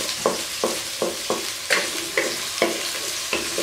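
Sliced medium onions fry in a hot pan for a chicken malai handi, with a steady sizzle broken by regular scraping stir strokes roughly every half second, close and moderately loud, no talking.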